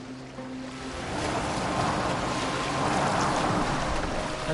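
Boat gliding over open water in the Assassin's Creed Valhalla video game, a steady wash of waves and surf swelling slightly louder partway through, with no voices.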